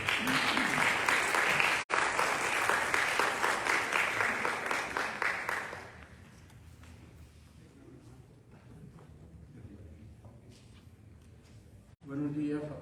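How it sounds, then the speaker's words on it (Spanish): An audience at a book presentation for a biography of Hostos applauds the speaker, loud dense clapping for several seconds that fades into room murmur and quiet talk before another short burst of clapping. "Un aplauso para él."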